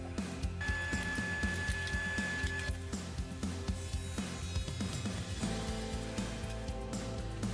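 An old wood lathe turns simple wooden dowels with a steady motor hum and a rhythmic rapid thumping, while a cutting tool adds scraping chatter that grows busier partway through. Close and continuous, with no talking.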